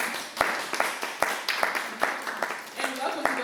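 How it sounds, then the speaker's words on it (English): A small youth audience at a Monday huddle claps in steady rhythmic beats for a woman coming up to speak, close and moderately loud, with a voice faintly under it. "Let's clap her up as she comes."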